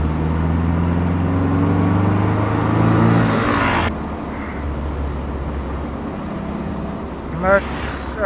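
A Toyota 2T engine with a twin-carburettor setup in a Sprinter revs loudly close by, with a rising drone that drops off sharply and settles into a rough idle, followed by a brief blip near the end.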